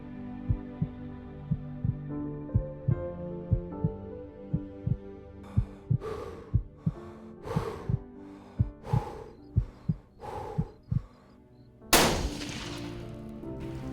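A single sharp rifle shot from a whitetail deer hunt cracks out loudly near the end, following a run of soft, evenly spaced low thumps.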